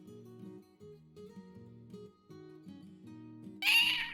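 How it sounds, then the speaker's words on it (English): Loud, aggressive cat meowing from the video game Dwarf Fortress, a rapid run of tonal, repeated yowls that ends in a brief sharp screech. "What aggressive meowing we have right now."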